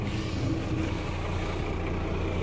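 A steady, droning whir like a toy car's turbine runs without a break, a low rumble under a constant airy hiss.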